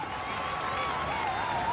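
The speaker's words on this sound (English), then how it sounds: "And the people there are cheering these riders on." Spectators at a professional road cycling stage race in Denmark cheer riders on, a continuous spread-out wash of crowd noise and applause heard at a moderate distance.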